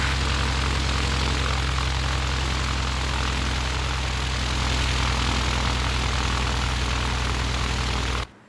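Airliner engines roar steadily at a busy Salt Lake City airport in the Tower Simulator 3 game, a loud continuous drone with low propeller-like hum throughout, cutting off abruptly at the end.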